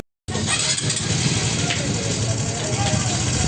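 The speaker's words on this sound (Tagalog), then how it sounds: "pakinggan natin yung kanyang andar ng kanyang makina" A Honda XRM 125 Fi motorcycle engine with a rattling timing chain and roller guide bursts into life and keeps running steadily, loud and close, with a busy metallic clatter over the idle.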